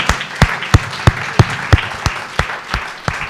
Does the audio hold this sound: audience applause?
yes